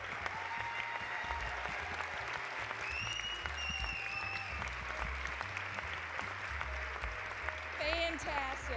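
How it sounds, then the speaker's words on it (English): An audience applauds after a school rock and roll performance, steady dense clapping filling the room, with a few cheers and whistles rising over it. "Give them one more round of applause."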